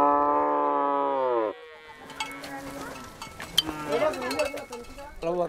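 Cattle brought in as a herd for vaccination in Sudan, opening with a long, loud, close moo, then a busy mix of further lowing and bleats, clatter and commotion with voices in the background.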